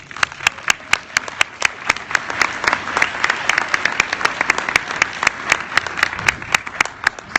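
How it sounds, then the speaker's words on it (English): Crisp, individually audible claps ring out from a conference plenary audience, a steady rhythmic patter of many hands cheering a team standing up for recognition. "and Michelle and Patina to stand up for a round of applause"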